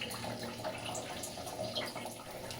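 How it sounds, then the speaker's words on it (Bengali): Water pouring steadily into a bucket, a soft continuous splashing and trickling at low volume. "এই এখানে একটা বালতি বসিয়ে দিয়েছি জলটা পড়ছে ওই জন্য একটুখানি আওয়াজ হচ্ছে"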